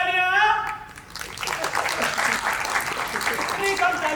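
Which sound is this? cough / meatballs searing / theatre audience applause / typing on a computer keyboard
theatre audience applause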